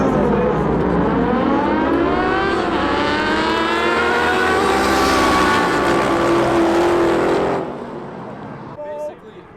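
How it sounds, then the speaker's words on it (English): Cars in an illegal street race roaring past: a loud, sustained engine howl rising and falling in pitch as a car revs hard and sweeps by nearby, then fading out at the end. "Basically, a street race going on"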